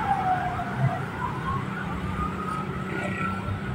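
An emergency vehicle siren responding to a fire wails steadily with sweeping tones over continuous road traffic noise, moderately loud and sustained throughout, with no speech.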